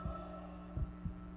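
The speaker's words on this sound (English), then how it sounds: "You hear that? That's a heartbeat." Heartbeat in the survival-horror video game Dead Space: low, muffled thumps in a lub-dub pattern over a steady droning hum, with two or three beats heard close and heavy.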